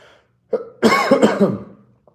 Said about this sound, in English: sorry, I just got this cough. I had a little cough.